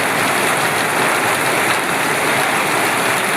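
Steady heavy rain pours down on a rainy day in the Andaman Islands, a dense, even hiss of drops hitting surfaces with no letup, loud and close throughout.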